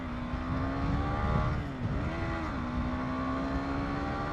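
A KTM 390 motorcycle ridden hard around a mall parking-lot track, its engine whining steadily and loud up close, the pitch dipping and climbing through gear changes, with no talking over it.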